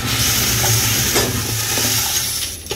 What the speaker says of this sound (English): the parts just really get banged around in there